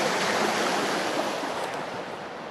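Fresh water from street runoff flows steadily out of a storm drain by a rusted gate near the tide, a continuous broadband rush that holds even and close throughout.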